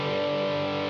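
A guitar played through the Berserker distortion mode of the Myroneman effect rings out as one sustained, heavily saturated chord with dense buzzing harmonics before cutting off.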